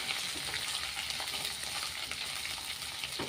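Potatoes and tempering spices fry in a pan, giving a continuous soft hiss and sizzle with faint stirring scrapes, quiet and close, with no talk.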